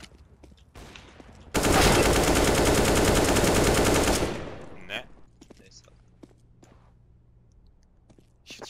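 Counter-Strike gameplay with a loud sustained burst of automatic gunfire lasting under three seconds, followed by quieter footsteps and scattered game sounds, with players talking quietly around it.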